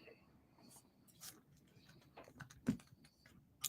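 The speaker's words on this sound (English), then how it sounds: "we're just going to start typing in our search bar up here" Quiet clicks of a computer keyboard tapping letters into a search bar, irregular light keystrokes spread over a few seconds with a couple of sharper taps, low and close.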